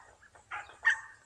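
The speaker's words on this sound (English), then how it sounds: "See that cute little doggy?" A little dog, one of the puppies out on a walk, gives two or three short, faint yips and barks in quick succession, with no other sounds around them.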